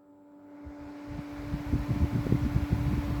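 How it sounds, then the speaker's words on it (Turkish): An electric fan powered by a 300 W inverter spins up from quiet into a steady whirring hum, with a constant electrical whine and fluttering air noise growing louder. "Şimdi bir adet vantilatör var. Onu bağlayacağım."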